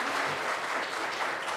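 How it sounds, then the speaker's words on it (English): An audience at a student orientation claps in a dense, steady burst that fills the room and continues unbroken throughout. "Please applaud."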